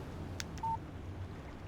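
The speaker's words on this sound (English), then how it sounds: "Text message from Barry." A short single-tone phone text message alert in the video game Alan Wake, a brief clean beep sounding once after a faint click, over a low ambient hum with no talking.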